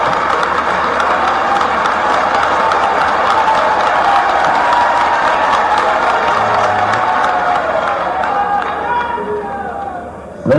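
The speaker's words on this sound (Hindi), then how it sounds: "इतनी बढ़िया तालियां तो यही बजती है" Dense, sustained applause from a large crowd at a state-level panchayat secretaries' conference in Bhopal, loud and steady for about ten seconds before tapering slightly near the end.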